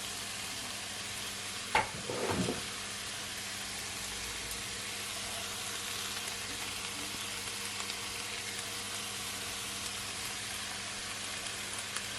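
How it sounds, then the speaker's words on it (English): Chicken and vegetable stir fry noodles are stirred in a hot pan, with a brief scrape and clatter near the start, then a continuous loud sizzle running on alone. "Gonna give it a stir"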